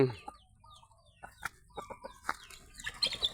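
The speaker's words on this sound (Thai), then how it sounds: "แพนด้ากวนไก่เหรอ กวนไก่ทำไมเดี๋ยวโดนตีนะห้ามกวนไก่ดิ" Chickens cluck nearby in short, scattered bursts, with sharper calls and some rustling mixed in.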